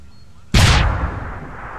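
Fragmentation mine blast in the video game Deus Ex: Human Revolution, a single loud sudden explosion that breaks a quiet moment and then decays into a long rumbling tail.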